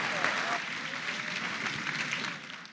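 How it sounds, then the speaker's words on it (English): A church congregation breaks into lively clapping, a full, continuous patter of many hands filling the room, with voices calling out over it throughout. "Clap for Jesus Christ."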